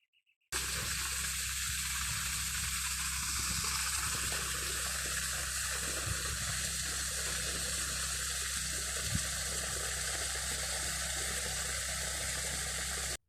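Water pours into a tilapia tank on a bitter gourd farm as a steady, rushing gush that stays close and unbroken for more than twelve seconds over a low hum, with no speech.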